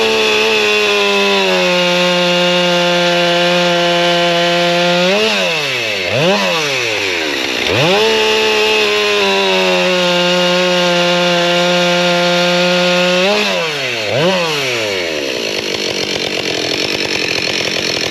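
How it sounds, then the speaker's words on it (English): Husqvarna 572xp chainsaw on a muffler test runs at high revs and makes repeated timed cuts through a modest chunk of wood, its pitch dropping under load and recovering between cuts; loud, close and continuous. "But we're going to see how the actual timed cuts come out."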